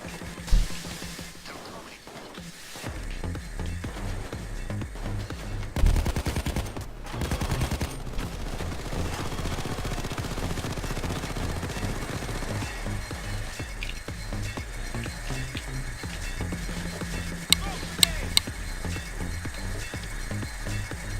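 Automated sentry turret fire in PayDay 2 during a heist, a long, sustained burst of rapid gunfire that continues under other game sounds with occasional sharper shots.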